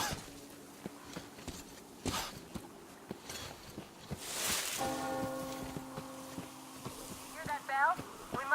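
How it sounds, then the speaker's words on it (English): A church bell rings in the video game Metro Exodus, a sustained, resonant toll in the middle of the clip, set among footsteps and scattered game noises, with a voice speaking at moments. "Hear that bell?"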